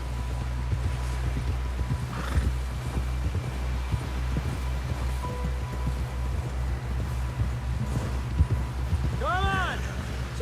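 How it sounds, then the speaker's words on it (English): Rhythmic hoofbeats of a galloping horse in Red Dead Redemption 2 pound steadily under continuous rumbling ambience, with a brief whinny-like cry near the end. "Someone help John down off this horse."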